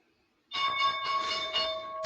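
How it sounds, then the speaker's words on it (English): The stock market opening bell rings out after half a second of near silence, a sustained, bright metallic clang that holds steady for about a second and a half. "And there is the bell."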